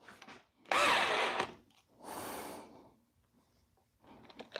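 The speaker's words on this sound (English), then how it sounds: "Speed 2 drill mode, I don't expect very much because it is a Makita after all." A Makita drill in drill mode on speed 2 bores without a pilot hole, in two loud whirring bursts separated by a short pause, with a third burst starting at the end.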